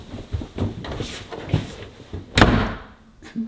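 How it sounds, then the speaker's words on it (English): A bathroom door slams shut with one sharp, loud bang partway through, surrounded by shuffling and scuffling movement nearby. "You run in the bathroom, close the door."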